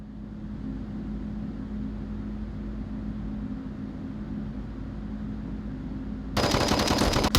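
A video game firefight plays out in a competitive match, with a steady muffled background din before a sharp, loud burst of rapid gunfire breaks in near the end.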